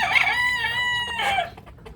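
Small red chickens cluck and squawk loudly and close by at feeding time, with a couple of drawn-out calls.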